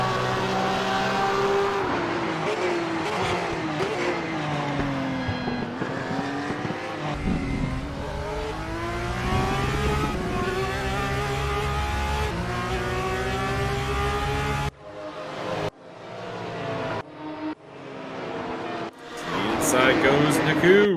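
Porsche Carrera Cup race cars racing at Suzuka GP around 130R, engines revving and shifting up and down as cars pass close, with a commentator talking over the noise throughout.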